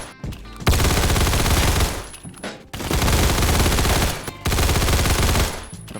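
Automatic gunfire in the video game Phantom Forces, three long sustained bursts of rapid shots, loud and close, separated by short gaps, with no talking over them.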